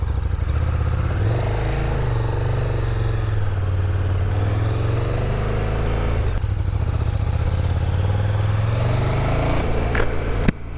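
A 2019 KTM Super Duke GT motorcycle engine heard on the move, a steady loud rumble with rising and falling revs as the bike is ridden, wind noise close and constant throughout.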